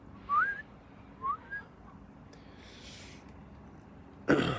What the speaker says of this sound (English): I have to breathe in when I whistle.